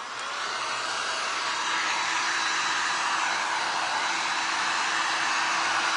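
A hair dryer blows steadily nearby, drying freshly applied acrylic glaze paint, a loud even whoosh that starts at once and holds for the whole stretch without talk.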